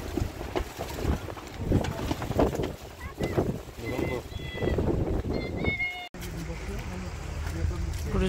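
Wind gusts across a sailboat at sea, a steady loud whoosh with buffeting microphone rumble and creaks of rigging, while people talk over it; a sharp dropout near the end is followed by calmer, more even wind noise.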